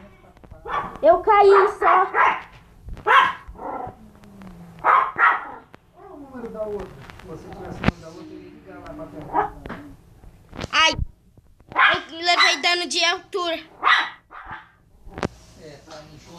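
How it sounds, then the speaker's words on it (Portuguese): A pet dog named Hulk barks repeatedly in sharp bursts with some yips, close by, interleaved with people talking over it. "se vocês estiverem ouvindo esses latidos, é o Hulk"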